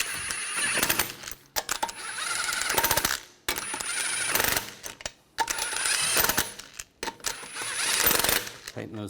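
On a 2013–2019 Ford Escape, the wheel lug nuts are tightened with a power tool in four loud bursts of rapid impact-wrench rattle. Short pauses separate the bursts, and the tool sounds close.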